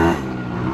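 A small motorcycle engine revving as it is ridden on a beach, a brief close burst of rising engine tone with no voices.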